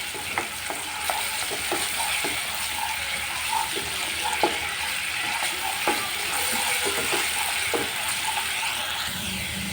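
Onion paste frying in a pan, a steady low sizzle under repeated scraping and clinking strokes of a spoon stirring it, close and moderately quiet.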